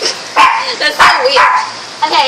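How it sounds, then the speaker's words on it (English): A pet dog barks in short sharp bursts, several separate yips and barks close by, with a person talking over them indoors on a rainy day. "so that's my dog."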